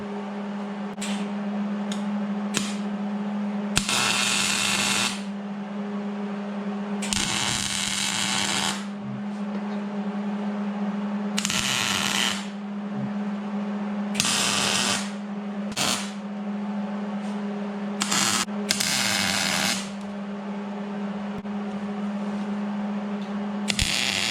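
MIG tack welds on Dr.Z shock tower frame plates for a Suzuki Samurai, a series of short crackling bursts of varying length separated by pauses, close by over a steady low hum, no talking.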